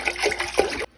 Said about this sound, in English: So I'm finna drop my juice up over here in the pot.